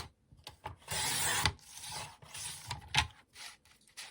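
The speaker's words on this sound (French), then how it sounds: "je vais déjà découper ma base de carte." A card base for a scrapbooking card is cut, making close, dry scraping and rasping strokes, some long and some short, with brief pauses between them.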